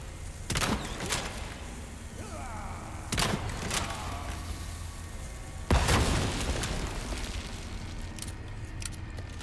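A stick of dynamite goes off in Resident Evil 4 Remake: a few separate muffled booms spaced seconds apart, each followed by rattling debris and a low rumbling background.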